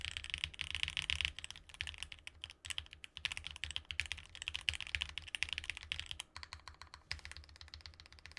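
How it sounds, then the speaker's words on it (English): Rapid, continuous typing on a Bear65 mechanical keyboard: dense, close clacks in irregular bursts with a few brief pauses, no talking. "I'm just typing in random stuff"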